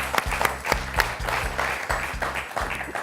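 Studio audience applauding on a French TV quiz show, a dense steady clapping wash with a low musical or synth pulse throbbing beneath it throughout.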